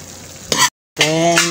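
Water with mung beans bubbles and hisses in a cooking pot, a dense steady seething that breaks off into a short silence and then returns just as strongly.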